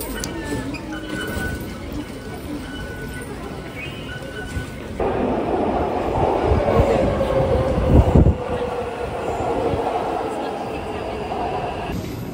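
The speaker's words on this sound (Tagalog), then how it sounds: "nandito na yung train" A metro train pulls into a Green Line station, its low rumble swelling midway and peaking in a brief loud roar, with steady platform noise and a faint voice in the background.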